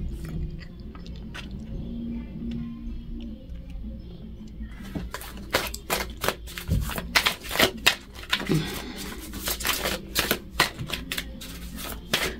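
Tarot cards being shuffled up close, a burst of rapid riffling clicks and slaps after a quieter stretch of soft handling noise.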